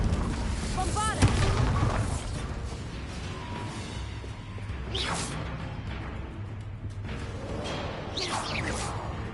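In the Hogwarts Legacy video game, the Bombarda spell goes off as a blast with whooshing surges and heavy booming impacts, layered over a dense, busy game soundscape.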